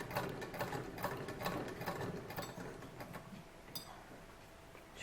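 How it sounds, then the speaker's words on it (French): An antique 1908 sewing machine stitches fabric with a steady, fast mechanical clatter of needle and gears, loud and close, running without talk and slowing slightly near the end. "et puis tu recommences à coudre."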